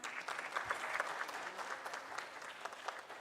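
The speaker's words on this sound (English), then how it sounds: "a big round of applause for this iron lady." Sustained applause from a conference audience at a pharmacology association's annual meeting, dense steady clapping with no talk, moderately distant and even throughout.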